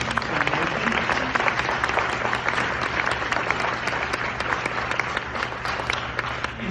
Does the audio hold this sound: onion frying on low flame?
no